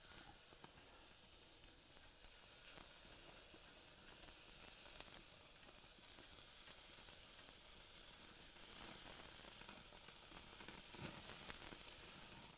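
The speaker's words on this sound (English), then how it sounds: "Oh, I love the sound of that sizzle." Continuous crackling sizzle of bacon frying on a hot grill, a steady hiss with scattered pops, fairly quiet throughout.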